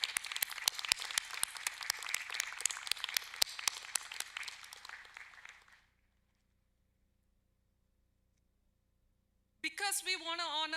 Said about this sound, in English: Everyone, let's have another round of applause for these outstanding students.